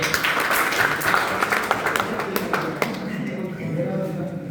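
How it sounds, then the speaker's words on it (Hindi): Loud applause for a trainee during assistant loco pilot first-aid training, a group clapping in a room with sharp claps standing out, then tapering as voices murmur underneath. "तो हमारा नीतीश के लिए जोरदार ताली"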